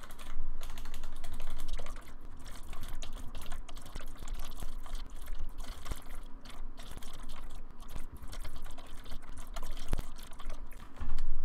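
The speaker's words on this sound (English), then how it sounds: "So let me type in some dialogue." Fast continuous typing on a computer keyboard, dense close clicking of keys in an even stream for the whole stretch, with no one talking.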